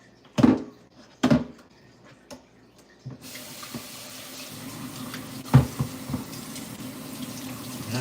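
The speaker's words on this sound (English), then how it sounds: "I want to rinse these things off really." Food is rinsed under a kitchen tap. A few handling knocks come first, then running water starts and flows steadily into the sink, close and moderate, with brief splashes as the food is moved under the stream.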